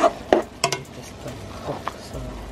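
Clinks and scrapes of a utensil against a metal pot of chicken carrot soup, a few sharp knocks followed by softer stirring and scooping of carrots.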